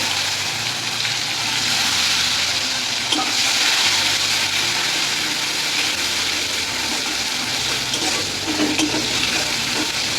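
Tomatoes going into a hot frying pan while a mustard-style fish dish is being cooked give a continuous, even sizzle with faint stirring scrapes, close and steady throughout with no talking.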